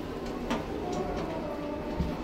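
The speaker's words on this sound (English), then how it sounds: "Apertura porta. Doors opening." Doors of a new 2018 Kone MonoSpace 500 machine-room-less elevator in Naples, Italy slide open over a steady mechanical rumble, with a couple of soft clunks as the panels move.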